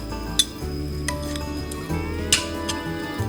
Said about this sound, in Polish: warzywa się smażą.